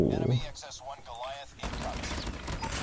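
Rapid HBRa3 rifle fire in Call of Duty Mobile, a dense burst of gunshots in the second half that follows a stretch of a voice talking over quieter game sound.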